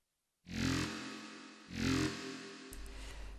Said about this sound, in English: The next sound will be the monster sound, which sounds like this.